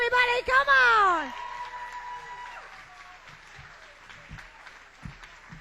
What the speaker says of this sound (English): How about a big round of applause for Lorraine Gardner, everybody?